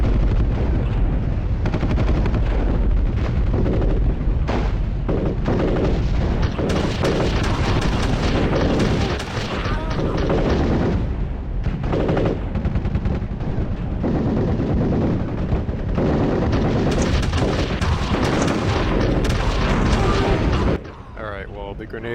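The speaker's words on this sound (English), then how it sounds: "The grenades get me every time." Grenade blasts and gunfire from the video game Army Men: World War roar almost continuously, loud booms and rattling shots stacked densely with little pause before a brief drop at the end.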